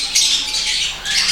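Sun conure parrots squawking in a breeding setting among other kept birds, a dense run of loud, shrill, harsh calls that overlap continuously with no talk.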